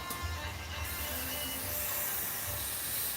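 Cleaner sprayed onto oxidized, stained aluminum parts of a Buddy 125 scooter, a steady close hiss of spray running throughout with no talking.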